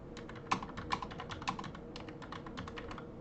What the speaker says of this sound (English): So let's type